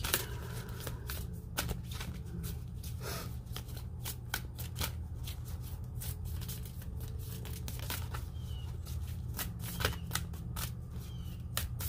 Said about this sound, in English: I'm taking the cards that fall on the table,